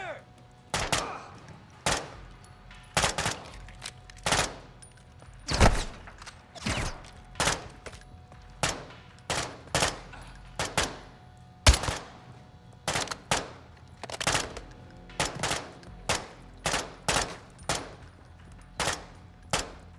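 Video game gunfire crackles in short, irregular bursts of sharp shots, spaced a second or so apart, moderately loud against a quiet background.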